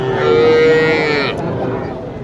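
A cow gives one long, loud, drawn-out moo at a crowded cattle market in Naogaon, with a low crowd murmur continuing after the call fades.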